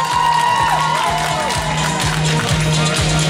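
Festival audience at a Ukrainian children's arts event applauding and cheering loudly and steadily, a dense wash of clapping with festive music playing underneath throughout.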